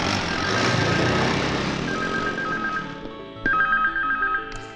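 Telephone ringing in a Hindi-dubbed action film, heard as repeated electronic trill bursts rising over a busy noisy background, with a louder second ring near the end.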